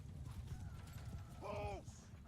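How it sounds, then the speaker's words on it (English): Cavalry horses move in a medieval strategy video game, with faint hoof clip-clop, a brief whinny and clanking mechanisms under a low background bed. "it looks like it'd be useful to have these horses charging at those ones"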